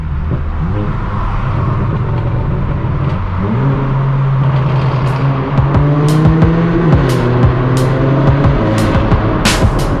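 Straight-piped BMW M4 F82 exhaust booms inside a tunnel, a loud continuous drone that climbs in pitch as the engine revs, with sharp crackles and pops breaking through in the latter half.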